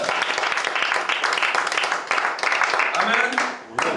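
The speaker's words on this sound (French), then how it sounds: "Acclamons pour le Seigneur." Church congregation applauding in praise during a French-language service, a dense, steady wash of clapping hands mixed with cheering voices, loud and close, briefly dipping near the end.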